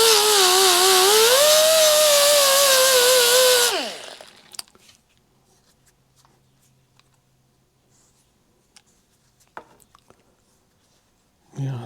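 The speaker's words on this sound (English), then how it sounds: "Just going to take my sander here" A sander works down engine parts from a Kawasaki F7 Bushwacker with a loud, buzzing whine that wavers in pitch for a few seconds. It then spins down, leaving quiet clicks and handling noises.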